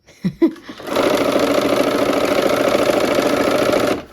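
A sewing machine stitches quilt strips for a barn quilt sampler, a steady rapid mechanical whir running for about three seconds after a few brief knocks of handling at the start, close and clear with no talk.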